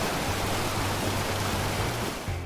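Three Sisters waterfall, a towering cascade said to drop 2,999 feet, roars as a steady, dense wash of broadband noise, loud and unbroken throughout with no voices.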